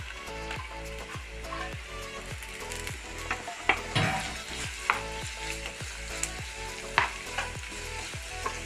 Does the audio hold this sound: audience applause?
no